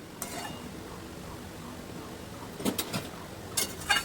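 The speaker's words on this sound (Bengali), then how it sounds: "দিয়ে আবারও নেড়ে চেড়ে দিচ্ছি" A spoon stirs spiced vegetables and masala loosened with a little water in a pan for Bengali shukto. The scraping is quiet and faint, with a few clinks of the spoon against the metal pan near the end.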